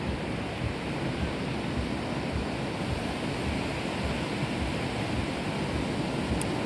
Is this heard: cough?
no